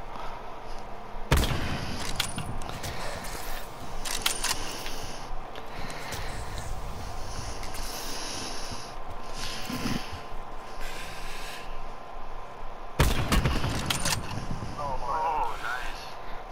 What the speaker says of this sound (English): the guy's sniping at us